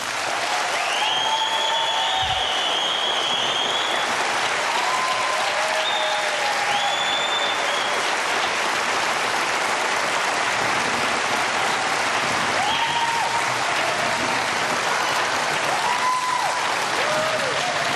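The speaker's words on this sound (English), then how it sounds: "Now to our live audience, your chance to applaud the candidates." At a gubernatorial debate held at a performing arts centre, a live audience applauds the candidates in sustained, dense clapping, with scattered whistles and cheers rising above it.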